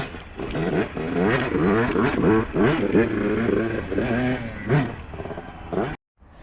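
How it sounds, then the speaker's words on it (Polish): A GasGas EC 300 enduro dirt bike is ridden after a suspension adjustment, its two-stroke engine revving and surging repeatedly in close, loud bursts with clattering over obstacles before cutting off. "teraz coś tam poklikałem, zobaczymy jak Tomkowi się będzie jeździć"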